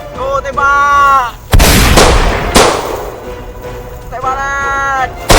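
Gunfire from a staged battle in a Javanese short comedy film about the independence war: two heavy, loud bursts in quick succession, framed by a shouting voice before and after.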